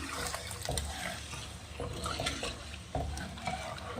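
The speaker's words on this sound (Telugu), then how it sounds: "ఇంకా దీన్ని మనం కంటిన్యూస్గా కలుపుతూనే ఉండాలన్నమాట" Karachi halwa with cornflour syrup stirred continuously in a pan, soft wet scraping and bubbling in repeated stirring strokes, quiet and close.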